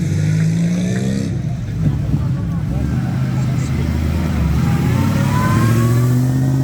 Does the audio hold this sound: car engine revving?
yes